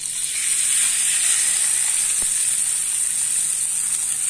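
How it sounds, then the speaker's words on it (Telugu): Tempering sizzling steadily in hot oil for a ridge gourd peel chutney, a bright continuous hiss close by with one faint tap partway through and no talking. "పోపు అయితే రెడీ అయిపోయిందండి"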